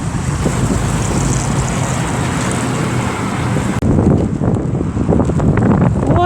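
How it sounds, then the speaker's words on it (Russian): Strong wind gusting during snowfall, a loud, steady roar buffeting the microphone, with a brief break near the middle and no voices. "Не знаю, слышите вы меня, не слышите, но ветер ужасный."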